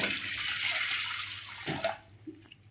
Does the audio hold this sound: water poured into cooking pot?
yes